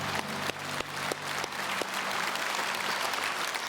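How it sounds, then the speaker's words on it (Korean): Church congregation at a Sunday worship service applauding together, a dense steady round of clapping with a few sharper claps early on, filling the room with no speech. "이 시간에 낙심한 분들을 위해서 응원의 박수를 한번 보내주시기 바랍니다."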